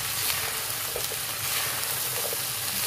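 Cut okra (bhindi) with green chillies fries over high heat in a pan, giving a steady soft sizzle with a few light clinks of stirring.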